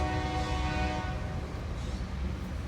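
Freight or passenger train passing near railroad tracks beside a home workshop, its horn blaring loud and sustained for about a second over steady rumbling wheels and rail noise that continues afterward.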